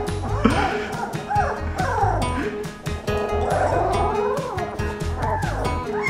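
Several puppies yip, whine and whimper over a meal of puppy mush, with busy overlapping high-pitched cries and sharp yelps, plus occasional clatter and thumps, continuing nonstop and close by.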